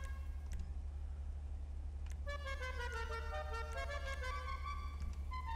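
Car horn from the tuning menu of GTA 5 on a Coil Brawler, a quiet steady hum followed by a short toot and then a longer sustained honk with a bright, harmonic-rich tone.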